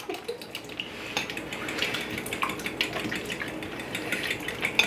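Eggs being mixed in a bowl with a utensil, a quick run of light clinking and scraping taps against the dish, close and steady, with faint kitchen clatter and no talk.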